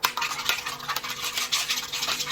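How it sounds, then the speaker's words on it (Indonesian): Egg yolks and milk are whisked briskly in a bowl for pancake batter, giving a quick rhythmic scraping and tapping at close range, fairly quiet, with no talking. "setelah kita campur sama susu, kitanya dikocok"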